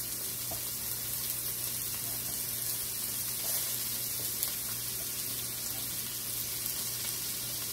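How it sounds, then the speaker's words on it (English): Onions and carrots sauté in a pan with a faint, steady sizzle that runs evenly throughout, quiet and close with no talking. "Let the onion saute a bit."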